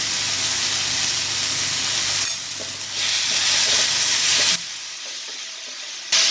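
Chicken gravy masala with chilli powder sautés in a pan, giving a loud hiss and sizzle that dips and surges in bursts as the mix is stirred, with no talking.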